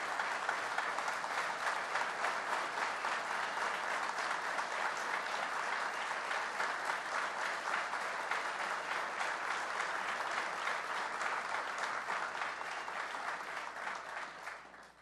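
Audience at Buffalo State applauding first responders honored for their service in the 2022 Buffalo blizzard, a long, even wash of clapping at moderate distance that holds steady before tapering off at the end.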